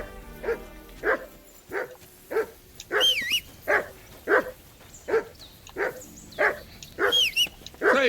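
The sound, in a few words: dog barking in video game Kingdom Come Deliverance 2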